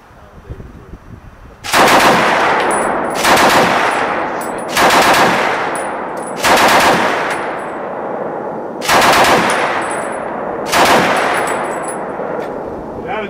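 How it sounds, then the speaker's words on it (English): A BAR automatic rifle fires on an outdoor range in a series of loud, echoing bursts, about six strings of rapid shots separated by short pauses, each ringing off into the distance. "Not bad for a machine gun."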